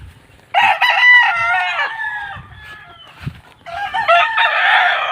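A Boston Black gamefowl rooster on a game farm crows loudly twice in long, harmonic calls, with brief chicken clucking between the crows.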